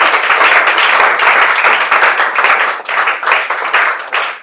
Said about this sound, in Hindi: इनके लिए जोरदार ताली बजा दीजिए आप लोग।